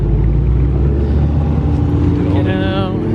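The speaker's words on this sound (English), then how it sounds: "There comes the GT3 behind him." A Porsche GT3 RS rolls past at a cars and coffee meet, its loud engine rumbling close by with a rising whine toward the end, while people talk nearby.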